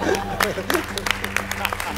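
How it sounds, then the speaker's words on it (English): An audience at an entertainment marketing breakfast applauds the panelists and their host, a steady spread of claps under a voice talking over it. "Big round of applause for Tom and the panelists"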